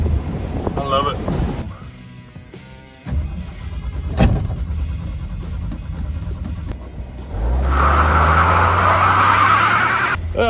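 A 1980 Ford F100 truck engine cranking and running after sitting for 29 years, choppy bursts at first, then a loud, steady rumbling idle, with people talking over it.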